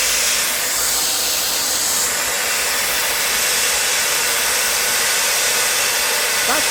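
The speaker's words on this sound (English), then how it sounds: "That sound you're hearing, guys, is the ejectors going off." LNER steam locomotive 60007 Sir Nigel Gresley at Alton station on the Mid Hants Railway, its ejectors giving off a loud, continuous steady hiss of steam that fills the whole stretch.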